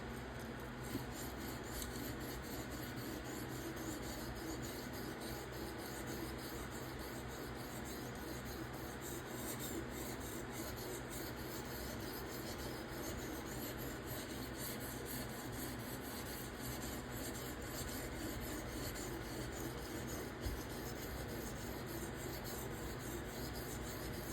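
Fine-grit sandpaper rubs steadily during sharpening, a faint, continuous scratchy rasping with quick back-and-forth strokes, close and alone without speech.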